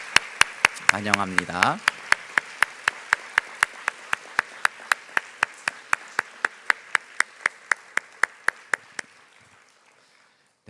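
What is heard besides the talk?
congregation applause welcoming visitors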